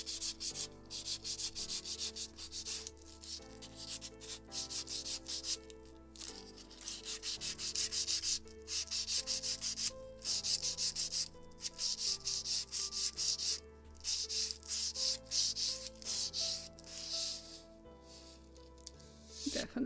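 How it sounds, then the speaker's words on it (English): Sandpaper wrapped on a sanding block rubs along a wooden spar for a Model Shipways kit of the 1776 gunboat Philadelphia, giving steady close scratchy strokes over tonal background music. "But sandpaper and piece of wood for sanding, you can find it for sure"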